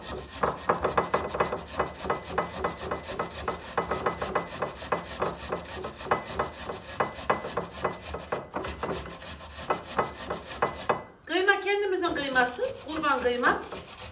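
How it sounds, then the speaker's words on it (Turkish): Two onions being grated by hand on a metal grater in a home kitchen, a steady run of close, brisk rasping strokes, followed near the end by a brief burst of voice-like tones. "İki soğan rendeleyebilirim şurada."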